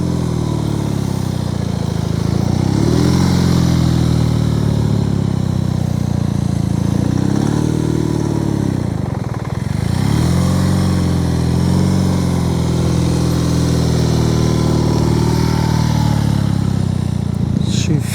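A motorcycle engine revs steadily at close range while the rider weaves through slalom zigzags and tight U-turns, its pitch rising and falling in repeated swells for the full length with no break.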